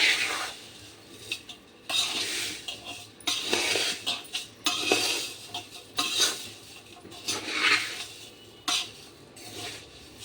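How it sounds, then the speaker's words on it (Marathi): Poha flakes roast in a pan for chivda, with a utensil scraping and stirring in bursts of dry rustling and metallic clinks, close and fairly loud, with quieter gaps between strokes. "मस्तपैकी करपूस खुदेपर्यंत पोहे भाजून घ्यायचे"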